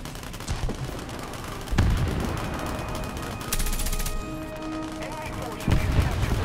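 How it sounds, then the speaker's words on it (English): A torpedo impact and gunfire during a naval battle with boats in the video game War Thunder. Heavy booming hits land among steady distant gunfire and rumbling, with a voice speaking in places. "Torpedo impact."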